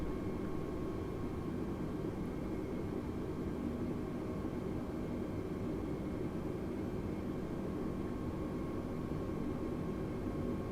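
A turboprop or jet aircraft engine in Microsoft Flight Simulator holds a steady, continuous broadband roar with a faint tonal hum at even loudness as the throttle comes up for the takeoff roll, with no voices over it.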